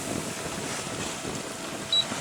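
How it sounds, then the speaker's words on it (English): Light wind and gentle sea swell aboard a sailboat on a calm day, a steady breathy rush of air and water with a soft low rumble, continuous and fairly loud, with no voices. "Wind isn't particularly strong."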